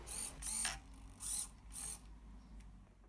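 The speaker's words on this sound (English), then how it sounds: "The first step is to test the servo with my micro RC receiver." A small RC servo driven by a micro RC receiver whirs in several short, high-pitched buzzing bursts with quiet gaps between, close and faint.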